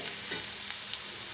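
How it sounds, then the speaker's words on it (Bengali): Boiled potatoes and green chilies stirred in a frying pan, a soft, even sizzle with light scraping of the spatula, close and brief with no voices. "কাঁচামরিচ দিয়ে একটু হালকা জাস্ট নাড়াচাড়া করে তারপর চুলা থেকে নামিয়ে নিব"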